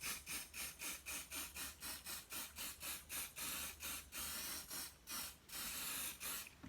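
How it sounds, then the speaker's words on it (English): An aerosol can of layering spray puffs scenery colour onto model railway track work in a rapid series of short hissing bursts, close and evenly paced, then a few longer sprays at the end with no talking. "So again, another coat of layering spray."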